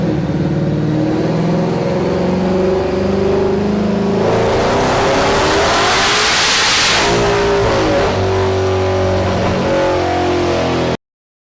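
A twin-turbo S650 Mustang engine roars under heavy load during a dyno pull on 93-octane fuel, pitch climbing steadily through a long sustained pull, then easing off; loud, close, continuous, and then abruptly cut.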